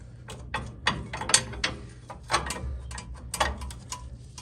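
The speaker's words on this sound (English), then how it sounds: "Now that the calipers are out of the way, keep removing this bolt." A hand ratchet clicks in short, uneven bursts while a bolt is worked loose near the front brake area of a two-wheel-drive Ford Ranger after the calipers were removed, close and clear with no talk.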